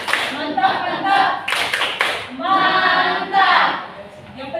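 A group claps along in a rhythmic, chanted cheer at an Indonesian gathering, with bursts of hand claps alternating with voices calling out; loud and close, clapping and voices overlapping throughout.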